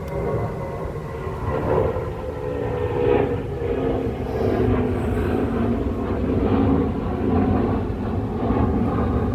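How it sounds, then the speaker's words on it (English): An airplane on final approach to an airport passes overhead, a loud, broad steady roar that swells and holds for several seconds with no talk. "Oh, airplane, just a minute."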